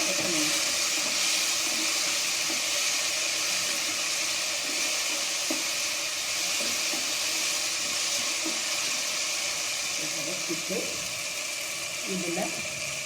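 Ginger and garlic sauté in a hot pan for vada curry, giving a steady, hissing sizzle heard close up, with occasional soft clinks and a voice speaking faintly in the background.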